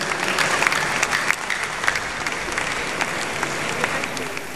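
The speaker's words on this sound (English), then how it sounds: "Clap your hands." A church congregation claps their hands in sustained, dense applause, with individual sharp claps standing out and voices faintly mixed underneath throughout.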